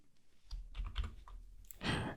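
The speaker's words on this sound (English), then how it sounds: "I'm just going to press escape on my keyboard." Computer keyboard keys pressed during an Ubuntu 22.04 server setup, a few soft clicks followed by a louder, sharper keystroke burst near the end, heard close up with no talking.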